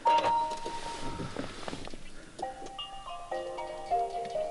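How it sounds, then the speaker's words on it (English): A Nissan Leaf Tekna powering on after the power button is pressed with the brake held: a soft click and quiet mechanical whirr, then a series of gentle electronic startup chimes, faint and close inside the cabin. "I put my foot on the brake and press the power button."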